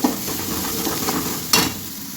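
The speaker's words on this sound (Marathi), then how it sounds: "थोडीशी हळद आता ह्याला छान असं भाजून घेऊया एक दोन मिनटं" Spice masala with turmeric roasting in a pan, heard as a steady, fairly loud sizzle with soft stirring scrapes and a brief louder hiss burst midway.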